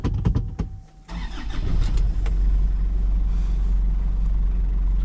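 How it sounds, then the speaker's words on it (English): A 1995 Isuzu Elf truck's diesel engine cold-starts, cranking with a few sharp turnover bursts, briefly catches, then settles into a steady, loud rumbling idle close by. "I don't know if you can hear it, but you can hear the diesel for sure."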